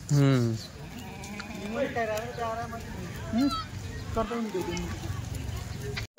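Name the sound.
goats bleating while being fed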